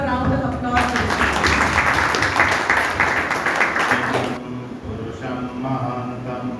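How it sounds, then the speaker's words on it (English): Applause from an audience of parents and guests at a DAV Boys school program, a dense wash of clapping that rises after a brief pause, holds steady for several seconds, then stops abruptly and fades into room noise. "Give a round of applause to them."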